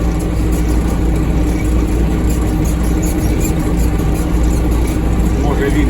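Several MTZ tractors run while spreading urea fertilizer in a field, a steady loud engine drone throughout with someone talking over it.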